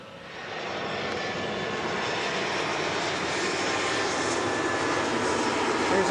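A Delta airliner's jet engines roar at Milwaukee Mitchell International Airport, rising from quiet to a steady, fairly distant whoosh that swells slightly as the plane approaches.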